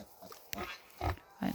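Young piglets on a snowy farm grunt in a few short, quiet bursts near the microphone, with faint background ambience between grunts.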